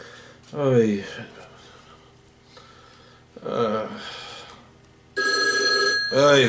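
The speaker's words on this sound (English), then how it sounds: "The phone's ringing." An old-style telephone bell rings in several bursts, separated by pauses in which a person speaks.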